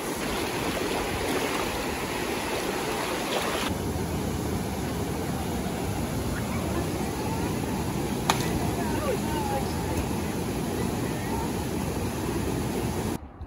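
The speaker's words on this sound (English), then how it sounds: "Into the rapids." River rapids rush in a loud, continuous, broadband roar, close and steady throughout.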